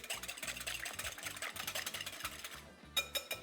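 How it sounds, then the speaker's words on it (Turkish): Eggs being whisked by hand in a bowl with a wire whisk, a rapid, regular scraping and clicking rhythm close up, pausing briefly before a few final strokes. "bir çırpma teliyle öncelikle yumurtaları çırpıyorum"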